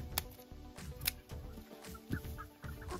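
A bigger-bodied hen, likely a black copper Marans, clucks inside a chicken coop being readied for winter, with several short, fairly close clucks repeating over steady low background noise.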